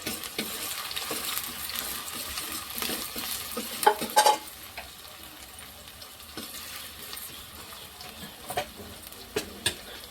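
A spoon works through boti curry with green chillies in a pan, giving soft scraping and clinking. A gentle sizzle runs underneath, and a few louder knocks stand out. No voices are heard.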